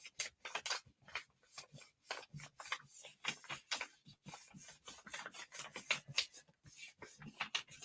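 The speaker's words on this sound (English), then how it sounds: "So now I'm trying to rub around the leaf so that we get those cutouts" Paper is rubbed by hand over a leaf laid on a gelli printing plate, producing close, quick scratchy swishes in an uneven, repeated rhythm.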